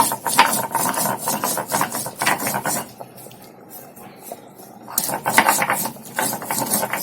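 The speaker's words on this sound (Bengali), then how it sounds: "এখন লঙ্কাগুলো বাটছি" Chillies being ground into a paste, a repeated rough scraping and rasping of stone work in close bursts, pausing briefly in the middle before resuming.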